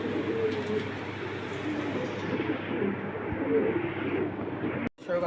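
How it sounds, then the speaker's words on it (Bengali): Many racer pigeons at a seller's loft coo together in a dense, continuous murmur of overlapping calls, close and steady until a brief cut near the end. "দর্শক দেখুন রেসার কবুতর আপনারা যারা 10 জোড়া 20 জোড়া বা 100-200 জোড়া নিতে চান আমার থেকে নিতে পারবেন"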